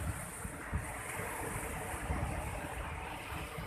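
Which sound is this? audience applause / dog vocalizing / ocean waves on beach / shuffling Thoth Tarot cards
ocean waves on beach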